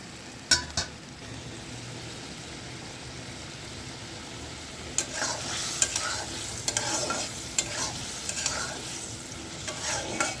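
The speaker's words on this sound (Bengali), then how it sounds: "এটাকে আমি ভালো করে কষাবো।" Fish curry with green banana sautés in a pan with a steady sizzle. A spoon scrapes and knocks against the pot at intervals as the mixture is stirred close by.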